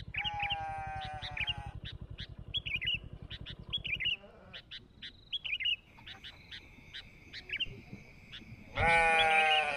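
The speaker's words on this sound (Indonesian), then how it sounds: "Dari tadi dombanya bunyi-bunyi terus" Sheep bleat repeatedly nearby in a rural Cianjur, Indonesia village, wavering cries rising over a low buzzing drone, while small birds chirp in between and one louder bleat closes.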